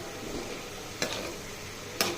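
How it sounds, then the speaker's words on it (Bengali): Fried banana flower with coriander leaves is stirred in a pan under a quiet, steady sizzle, with two sharp utensil clinks against the metal about a second apart. "তারপর একটু লাড়া দিয়ে উঠিয়ে ফেলাই।"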